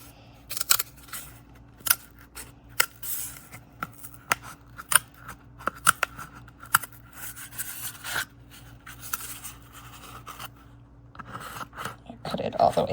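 Scissors snipping through a black swallowtail chrysalis, a series of short, sharp crisp cuts and rasping snips spaced irregularly, close and fairly quiet, with no talk.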